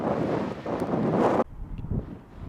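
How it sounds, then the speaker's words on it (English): Strong wind at Canyon de Chelly, Arizona, buffets the microphone with a loud roaring rush, then suddenly drops to a softer gusty rumble. "It's a windy day at Canyon de Chelly"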